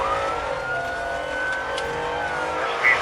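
A car engine runs hard during a high-speed police chase through Ocala streets, a steady rising engine tone under faint radio-style talk, loud and continuous throughout.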